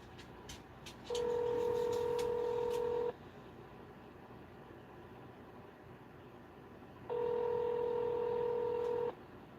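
Telephone line tones come through as two long, steady electronic beeps, each about two seconds, separated by a pause over low background hiss.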